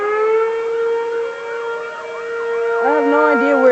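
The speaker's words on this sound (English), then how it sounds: "I can hear the federal signal 2001" A Federal Signal 2001 civil defense siren sounding across a town, its loud steady wail holding a drawn-out tone with a slow rise and fall, joined near the end by a second warbling siren.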